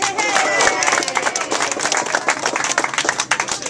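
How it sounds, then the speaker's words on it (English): A camp meeting crowd applauds for an absent lead flagger: a burst of dense clapping that thins into scattered claps toward the end, with a few voices mixed in. "round of applause for Power Ho."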